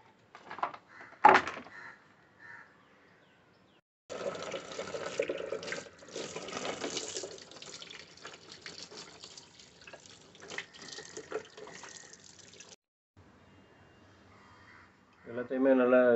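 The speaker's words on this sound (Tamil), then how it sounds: "எல்லாமே ஃபுல்லாக ஒரு வாட்டர் வாஷ் பண்ணலாம் மோட்டர் தவிர." Tap water runs and splashes over dismantled plastic parts of a tower fan being washed in a sink, in uneven bursts with pauses and a final louder gush, while people talk.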